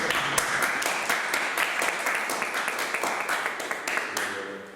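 Steady audience applause fills a lecture hall at a maritime university forum, dense clapping sustained throughout at moderate level without pause.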